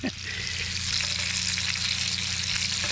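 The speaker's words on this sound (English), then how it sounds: "right on these coals and firewood, and she's sizzling nice" Steady, loud sizzling of food frying over hot campfire coals and firewood, a continuous crackling hiss with no talking.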